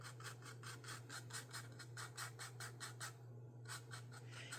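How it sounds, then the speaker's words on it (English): A soft brush sweeps lightly back and forth, whisking excess gold leaf off a gilded surface in quick, even strokes, faint and close over a steady low hum. "you're just going to brush off the excess"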